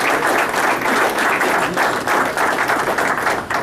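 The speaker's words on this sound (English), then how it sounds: "let's just have a round of applause for Elaine" Loud, dense applause from a club audience at a university athletics gathering, a steady sustained roar of many hands clapping close by with no talk over it.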